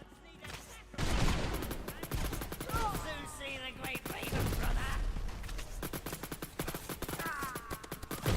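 A PPSh submachine gun in a video game fires in rapid bursts, a dense crackling rattle of shots that goes on for several seconds, loud and close, with people talking over it.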